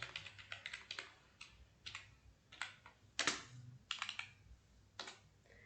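Someone types code in C on a computer keyboard, with quiet, close key clicks in uneven bursts and pauses, including one heavier keystroke.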